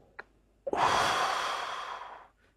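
A single long, deep breath drawn in and then released during a guided breathing exercise: a soft airy rush, close and alone, fading out over a couple of seconds.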